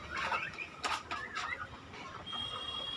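A hen clucks repeatedly in a farmyard where fighting-breed chickens are kept, the calls close and busy over a steady outdoor background.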